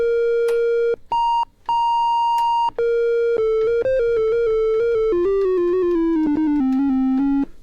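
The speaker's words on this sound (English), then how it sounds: "sounds very triangular to me." A Behringer MS-101 synthesizer plays a triangle wave in clear, pure sustained tones: a few held high notes, then a run of short notes stepping steadily downward in pitch, loud and alone.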